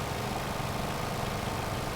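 A boat engine running flat out at high speed, a loud, steady, broadband roar with no breaks.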